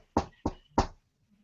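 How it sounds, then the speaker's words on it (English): Three sharp knocks on a door, evenly spaced about a third of a second apart, close and distinct, followed by quiet with no voices. "she hears a knock on the door"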